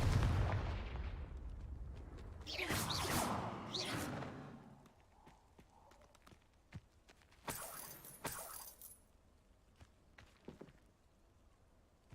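Spell blasts erupt in the Hogwarts Legacy video game, a few heavy booming bursts up front followed by sharper scattered cracks and thumps that fade toward quieter, intermittent impacts.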